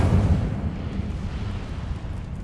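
A loud, continuous roaring whoosh from the Incendio fire spell in Hogwarts Legacy, a dense rumbling burst of flame that stays strong for the whole moment.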